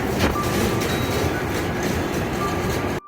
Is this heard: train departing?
yes